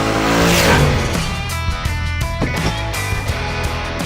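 A car skids with a squealing, revving rush, loud and close, the engine roaring and tires scrubbing before settling into a rougher, pulsing engine note.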